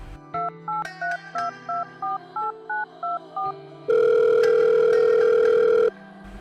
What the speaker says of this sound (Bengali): নাগিনা সাহেবকে ফোন লাগালাম